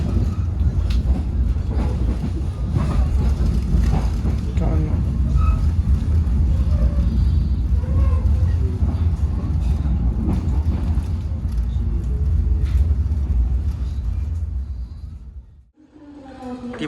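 Train arriving at Surabaya Gubeng station in Indonesia, heard from inside a local economy carriage as a loud, steady low rumble of rolling wheels that fades near the end.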